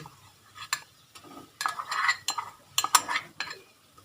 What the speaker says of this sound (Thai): จะเอาน้ำตาลลงไปผัดด้วยเลย